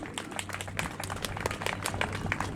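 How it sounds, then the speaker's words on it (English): Scattered, fairly faint applause from an outdoor airshow audience at Southport, clapping steadily for a parachute freefall display team without any voices over it. "Let's give them a big round of applause for the freefall group."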